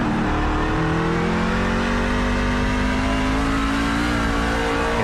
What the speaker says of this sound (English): Let's listen and see how to wheel one of these trucks on a road course.